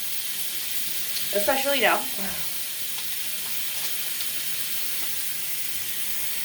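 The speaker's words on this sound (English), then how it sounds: "First, I'm going to wash my hands." Water running steadily from a tap during handwashing, a constant broadband hiss throughout, with a short stretch of talk partway through.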